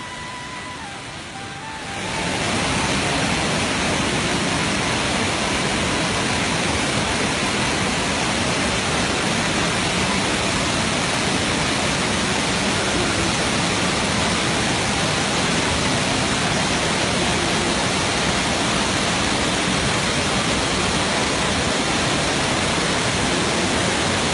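A monsoon waterfall at Bhandardara roars as steady, dense broadband rushing water. It rises from quiet within the first two seconds and then holds loud and unbroken throughout.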